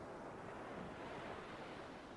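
Ocean waves breaking on a shore make a continuous broad roar of surf with a windy hiss, steady and enveloping with no distinct individual crashes.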